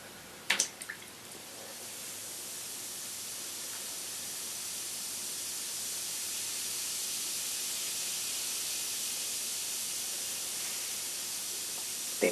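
Effervescent tablets fizz as they dissolve in a container of warm water, a steady soft hiss that builds slightly and holds for several seconds after a couple of small splashes at the start, with no talking.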